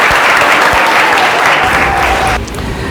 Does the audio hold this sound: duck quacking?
no